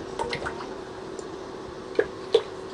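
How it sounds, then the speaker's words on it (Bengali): Oil goes into a hot pan for making pitha with a few soft drips and light squishy ticks over a faint steady hum, sparse and quiet. "পাইপেনটা গরম হয়ে গেছে, এখন আমরা তেল দিয়ে দিব।"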